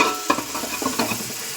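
Nalleru curry frying in a pan: a steady close-up sizzle broken by a few sharp clicks and scrapes of stirring, with no voices.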